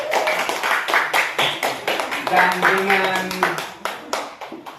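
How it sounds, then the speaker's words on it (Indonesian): A small class claps for a student who solved a problem on the blackboard: distinct, rhythmic hand claps in short bursts, close and fairly loud, with a voice speaking over part of it and a brief hum of voices midway. "mari kita beri tepukan tangan untuk Ozil."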